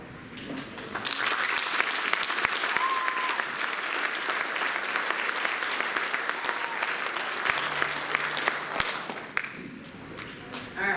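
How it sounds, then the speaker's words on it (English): Students stand as a school band spring concert audience gives them a long, steady round of applause, dense clapping from a large crowd in a hall that swells quickly, holds for several seconds and then fades out. "if you guys would please stand so we can give you a round of applause."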